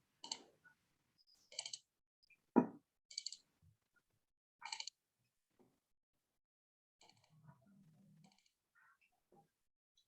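Faint, scattered clicks and light taps from a computer mouse and keyboard while letter details are typed into a form. The bursts come irregularly in a quiet room.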